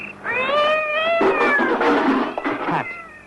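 A cat yowls and caterwauls loudly in a radio drama, a drawn-out wavering cry followed by harsher hissing, spitting sounds, close and alone.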